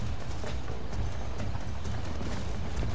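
Hooves of a horse in the Western video game Red Dead Redemption clip-clop in a steady rhythm over a dense, noisy game background, fairly close and moderate in level.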